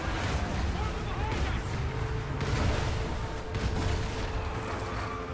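Rapid gunfire from a machine-gun-like weapon in the Call of Duty Ghosts campaign sounds as dense, continuous booming bursts throughout, with battle noise layered underneath at a moderate level.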